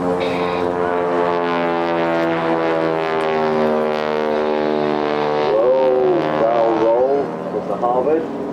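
A WW2 Harvard propeller aircraft at the Blackpool airshow drones with a steady, loud engine tone, the pitch shifting and wavering toward the end as it maneuvers overhead.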